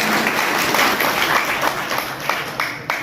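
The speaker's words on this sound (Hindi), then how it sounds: "जोरदार ताली से स्वागत कीजिए।" Audience in a jail hall applauds to welcome a poet at a poetry gathering, a steady wash of clapping throughout with a few sharper claps standing out near the end, and faint voices underneath.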